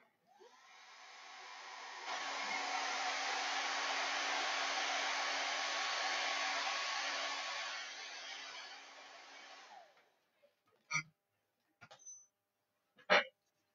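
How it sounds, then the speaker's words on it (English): A hair dryer blows steadily on freshly washed flowers for about ten seconds, fading in, holding a strong even whoosh, then shutting off, followed by a few faint knocks and clicks in the quiet. "I'm going to just dry these flowers."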